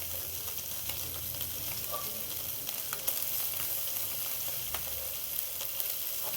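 Fish pieces fry in a pan, nearly done and starting to break apart, giving off a steady, fairly soft sizzle dotted with small crackles and occasional scrapes.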